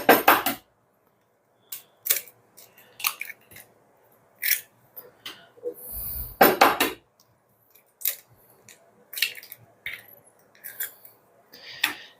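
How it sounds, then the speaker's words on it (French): Eggs cracked and handled for a Normandy apple tart filling, a series of sharp, close clicks and taps scattered through quiet, with one louder clatter midway. "Donc pour cela, on va casser les œufs."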